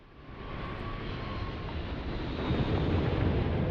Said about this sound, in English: And I get a sonic boom right away. And there's a ship.